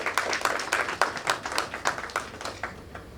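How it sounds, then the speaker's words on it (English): Applause at a corporate sales-execution event, sparse and rhythmic, with a handful of distinct claps in an even beat that fade gradually. "A big round of applause for all of them."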